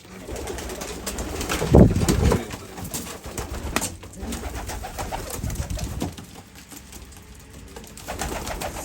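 Pigeons coo in a coop, soft throaty calls repeating close by over a busy background, with one louder burst of cooing near the start.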